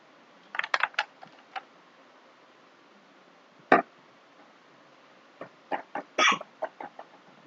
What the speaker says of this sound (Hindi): थोड़ा सा मैं पानी पी लूं, बहुत देर हिचकी आ रही है।